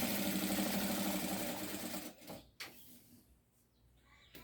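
A sewing machine stitches a shoulder bag in a fast, rhythmic run of needle strokes that stops after about two seconds, followed by a few soft handling knocks and quiet.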